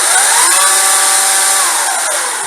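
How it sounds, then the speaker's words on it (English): A battery-powered Ryobi ExPand-It chainsaw attachment runs with a loud, steady electric whine that holds an even pitch for the whole stretch, close up and with no talking. "Okay, that's the chainsaw"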